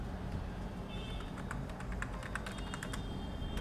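Rapid clicking of a computer keyboard as SQL code is typed, a fast run of light close keystrokes over a faint steady background hum with no talking.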